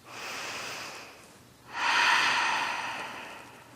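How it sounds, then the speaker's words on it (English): Deep, audible yoga breaths during a shoulder stretch: a long airy inhale, a brief pause, then a stronger, breathy exhale that slowly fades, close and clear with no talking. "Really accentuate the breathing."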